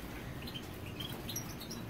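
Caged goldfinches in a large aviary give scattered high, thin chirps and tweets over a soft, steady background hiss, with no voices.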